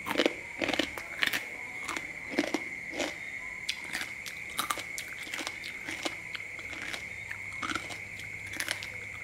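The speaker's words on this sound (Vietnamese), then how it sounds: "Cơm cháy giòn" Crispy fried rice crust cakes bitten and chewed up close, loud repeated crunches in an irregular rhythm across the whole stretch, with no talking.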